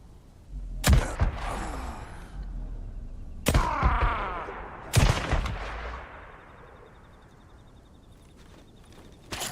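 Gunfire in the video game Days Gone Remastered: three loud, sharp shots in a firefight with marauders, each with a ringing decay, spaced a second or more apart, followed by quieter ambient rumble and one last report at the end.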